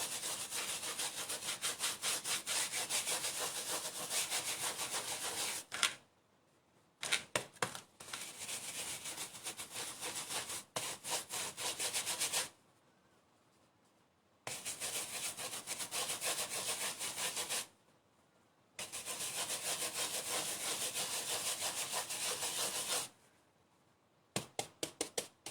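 A big brush dry-brushes pigment across paper in rapid scratchy strokes, coming in bursts of several seconds separated by short silences, close and fairly quiet.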